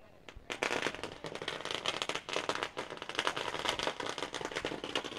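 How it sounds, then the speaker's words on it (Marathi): Firecrackers burst at a local cricket match between KON and HARIGRAM, a dense, continuous run of loud crackling pops lasting several seconds, with faint crowd noise behind. "फटाके कमी करा, फटाके मला."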